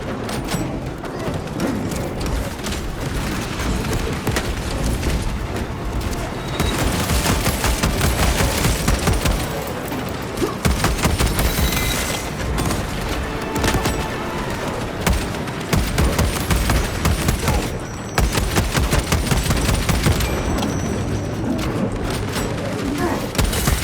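Dense automatic gunfire in the video game Warhammer 40k Space Marine 2, rapid loud bursts with booms and thuds, pausing briefly between volleys.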